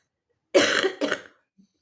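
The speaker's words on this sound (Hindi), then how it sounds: "खांसी आ रही है।" A single person coughs twice in quick succession, close and fairly loud, in otherwise quiet surroundings.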